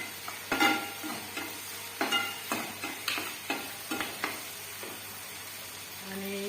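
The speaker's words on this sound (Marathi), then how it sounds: "आता हे आपण जो भात आहे शिल्लक जो राहिलेला आहे तो हे छान परतून झाल्यानंतर" Leftover cooked rice stir-fried in a pan, with a run of sharp scraping and stirring strokes about every half second over a faint sizzle, close and fairly loud, no talk.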